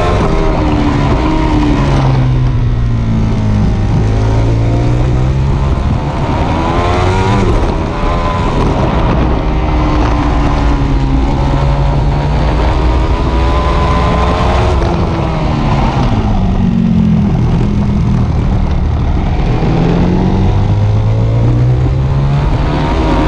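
A Ducati Panigale V4 S motorcycle engine revs hard and loud throughout, its pitch climbing and dropping through repeated accelerations and gear changes, with no talk over it.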